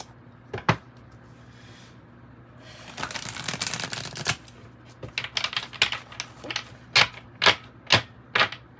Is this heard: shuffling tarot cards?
yes